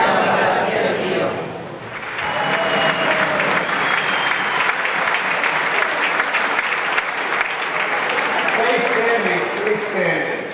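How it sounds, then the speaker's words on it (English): A church congregation applauds during an Italian-language Mass, loud sustained clapping that swells after a brief dip and carries on for several seconds, with voices and chatter mixed in near the start and end. "they like to applaud"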